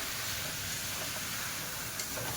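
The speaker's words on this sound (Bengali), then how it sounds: "এবারে মশলার মধ্যে চিকেন দেব চিকেন দেওয়ার পরে ভালো করে কষিয়ে নেব মশলার সঙ্গে" Chicken pieces frying in an oil-rich spice masala in a pan, a soft steady sizzle and hiss running evenly throughout with no talking.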